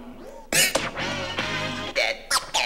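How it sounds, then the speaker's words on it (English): Short turntable scratch bursts in a tap-pause pattern on a DJ setup, stuttering record cuts separated by brief stops, loud and close with a few sharp chirps toward the end. "next up, we have the tap pause scratch"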